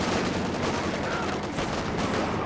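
Sniper gunfire in the Company of Heroes 2 strategy game, heard inside a dense wash of loud, continuous battle noise with no single isolated crack standing out.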